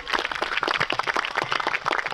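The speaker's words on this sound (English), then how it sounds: "Round of applause." Wedding guests at a Western Derby ceremony give a brief burst of applause, many hands clapping close and fairly loud in a dense, uneven patter.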